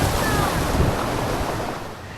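Rushing water current in Purulia, a steady broadband roar that stays loud and continuous throughout, with a faint whistle-like tone near the start and no talk.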